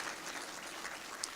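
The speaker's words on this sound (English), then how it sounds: "Please give Jeff a round of applause if you would" An audience applauds at a talk on global leadership, a brief steady wash of clapping hands from a crowd, moderately loud with no voices over it.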